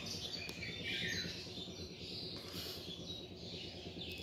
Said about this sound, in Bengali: আর কি সুন্দর ঘুঘু পাখি ডাকতেছে